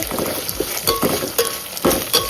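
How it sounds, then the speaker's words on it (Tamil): Ginger garlic paste sizzling and frying in a pan, with a spoon stirring and scraping against the metal in irregular bursts, close up. "இஞ்சி பூண்டு பேஸ்ட்டு நாம் இப்போ சேர்த்துக்கலாம். இது கொஞ்சம் நேரம் வதங்கட்டும்."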